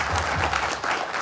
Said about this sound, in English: recognize also the wonderful achievement of the graduates by giving them a warm applause